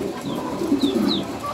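A blue checker racing pigeon from a breeding pair gives soft, low cooing close by. Faint higher bird chirps are heard in the background, and no one speaks.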